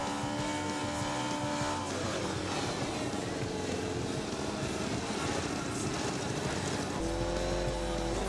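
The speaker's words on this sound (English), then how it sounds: "This is Jeff Godden and Dean Piper warming up the tyres" At a 2008 Central Nationals race meeting, a race car warms up its tyres with a loud, sustained engine roar and rising revs, close by, with no talk over it.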